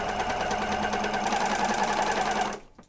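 A sewing machine runs in a steady, fast whir of stitching as it tests a stitch on the reverse side of fabric being upcycled into summer clothes, close and loud for about two and a half seconds before stopping abruptly.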